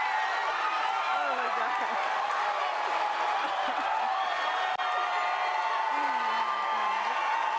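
Crowd cheering and whooping at a livestreamed Dead by Daylight trailer reveal, a steady roar of many voices under a continuous wash of noise with a few rising shouts.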